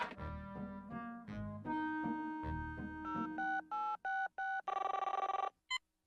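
A cartoon telephone in The Woody Woodpecker Show rings after a stretch of bright music: several short, evenly spaced electronic ring bursts, loud and close, then one final brief ring.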